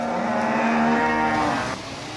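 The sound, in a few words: cows mooing on canal towpath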